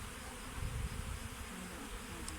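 A honeybee swarm buzzes in May during swarm catching at the hives: a dense, continuous drone filling the air, steady and fairly loud with slight surges, no voices.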